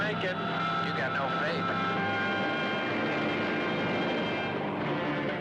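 A police helicopter in a television promo flies with a continuous loud engine and rotor roar that fades slightly toward the end.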